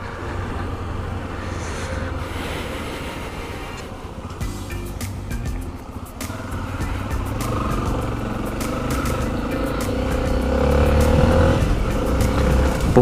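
A motorcycle carries a rider and passenger on a night road trip from Pipa toward João Pessoa, its engine rumbling under wind rush, growing louder as it accelerates through traffic.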